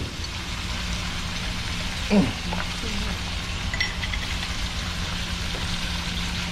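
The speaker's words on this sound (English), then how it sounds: "I'm going to add some minced garlic to it." Minced garlic frying in a pan while cooking a Jamaican breakfast, giving a steady close sizzle with a brief clatter of the pan or utensil near the start.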